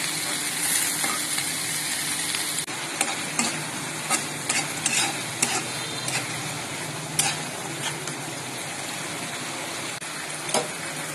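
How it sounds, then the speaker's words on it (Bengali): Shrimp, garlic and onion frying together in a pan, a continuous loud sizzle punctuated by sharp spatula scrapes and stirring knocks at irregular intervals, no talking. "চিংড়া মাছ, রসুন আর পেঁয়াজ একসাথে আমি হালকা ভেজে পরে সব মশলা দিয়ে দিই"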